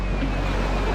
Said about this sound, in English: Sea rough, current strong.